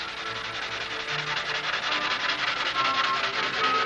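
Fine 600-grit sandpaper is rubbed back and forth by hand in a steady rhythmic scratching, close and fairly quiet, with no talking.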